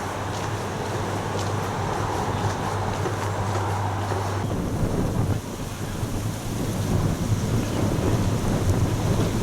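Strong wind roars and buffets outdoors on the Five Pits Trail near Grassmoor village in North East Derbyshire, a steady, loud rushing that eases slightly midway.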